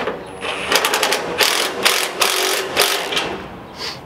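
Repeated bursts of a ratchet or powered driver tightening bolts with a 13 millimeter socket while mounting Equipment Defender trimmer racks, loud, close and alone in quick uneven pulses.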